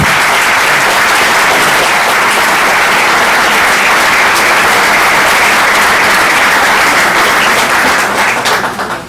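A lecture audience gives Father Javier Olivera Ravasi a loud, sustained round of applause, an unbroken wall of clapping hands lasting several seconds before it starts to fade at the very end.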